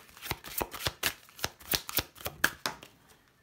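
Tarot cards are shuffled by hand in a run of crisp, evenly spaced riffling snaps at close range, with no talking.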